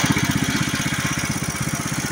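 A Stiga Alpina lawn tractor's engine runs steadily close by, its rhythmic low chugging pulsing evenly without pause and with no talk over it.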